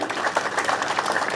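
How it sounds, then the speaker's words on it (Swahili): A crowd at a Rangers passing-out parade presided over by President Ruto claps for a squad, a short burst of dense, steady applause at moderate distance. "Makofi kwa squad 9."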